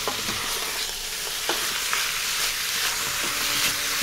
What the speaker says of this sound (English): We're reaching about 10 minutes for the sauteing of the pork belly.